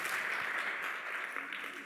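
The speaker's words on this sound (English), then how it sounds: "let's give a round of applause for the panelists" Audience applause for conference panelists at a financial inclusion forum, a steady wash of clapping held at an even level for a short stretch.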